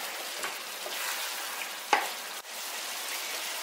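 Onions cook in a pan with a steady, soft, close sizzle, with a brief stir or scrape near the middle, while they caramelize.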